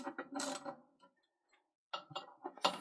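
Halfords 17mm deep socket on a ratchet working loose a stuck radiator valve, giving two close bursts of quick metallic clicking separated by a near-silent pause, with a few faint knocks in between.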